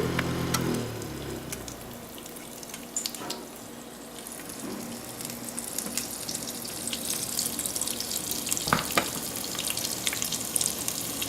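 Flatbread fries in hot oil with a faint, steady crackling sizzle and a few louder pops and clinks, and no talking.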